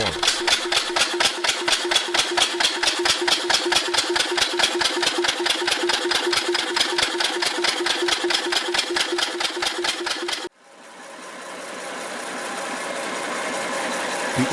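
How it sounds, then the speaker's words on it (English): A Mars 5 HP hand-started engine running with a fast, even, close chugging beat for about ten seconds, then cutting to a softer, steady hiss and rumble. "The Mars 5 HP stands out as a well-built and historically significant engine that continues to impress with its reliability and performance."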